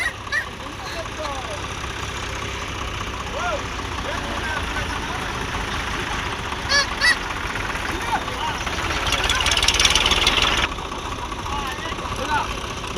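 Steady low rumble of a tractor engine idling nearby at a village temple fair, running continuously while people talk over it.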